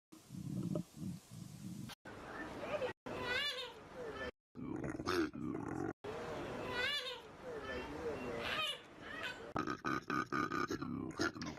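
Repeated rough, guttural bellowing from a male koala in choppy bursts, with snorting inhales and belching grunts, interrupted by brief cuts.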